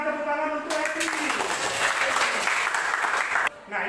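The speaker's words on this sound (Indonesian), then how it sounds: "Berikan tepuk tangan untuk Esti." A classroom group claps for a student during a teaching session, a short burst of steady clapping entering after a spoken lead-in and cutting off near the end, with voices audible around it.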